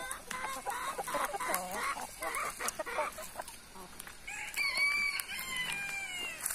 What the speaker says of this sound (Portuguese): Vamos mostrar as galinhas lá chocando.